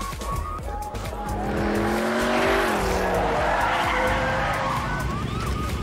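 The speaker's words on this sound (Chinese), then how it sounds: "整辆汽车在路上开始了漂移" A car in a movie scene drifts across the road with its throttle jammed, tires squealing in long rising and falling screeches over a roaring engine, loud and close throughout.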